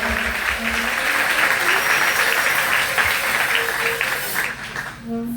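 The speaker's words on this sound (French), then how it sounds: "Applaudissez plus fort." A sustained round of audience applause at a graduation ceremony, loud and dense, with faint voices mixed in, fading down in the last second as it ends.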